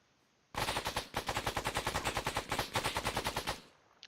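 Sustained automatic gunfire at trenches in ArmA 3 with ACE3, a loud rapid burst of about three seconds with evenly spaced shots, starting abruptly after a quiet moment and stopping cleanly.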